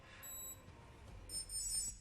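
Short, high electronic beeps from an exercise timer sound in two bursts, a single tone first, then a quicker run of repeated bleeps over faint background noise.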